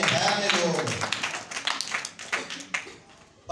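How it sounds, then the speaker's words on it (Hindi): A crowd claps hands in scattered, irregular bursts, with speech heard over the start of the applause. "तालियां बजाओ यार नवाज"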